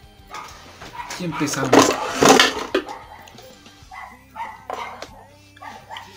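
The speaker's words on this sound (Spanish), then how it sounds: "Y empezamos con el maldito Chihuahua que no va a dejar de ladrar." A Chihuahua barks in quick sharp bursts mixed with yips and whimpers, loud and close, while someone talks over it.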